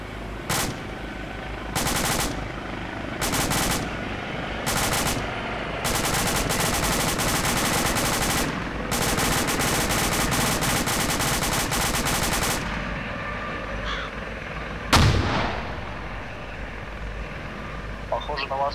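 Bursts of automatic gunfire crackle in ArmA 2 combat, several loud rattling volleys spaced irregularly, then a single sharp explosion from a hand grenade near the end, with players talking over the action.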